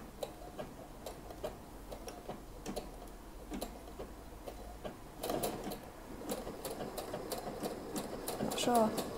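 A sewing machine stitching skirt seams for a wedding dress at a short stitch length, running in steady rapid ticking bursts close by, growing louder and busier in the second half.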